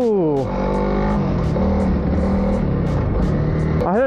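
A Honda CRF300L motorcycle engine surging unevenly at an off-road park, its revs rising and falling in a loud, close, wavering drone with a sharp rise at the start and end.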